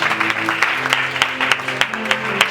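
A church congregation applauds during a Sunday service with a prophet, a steady patter of many hands clapping with sharper bursts, while sustained musical tones sit underneath.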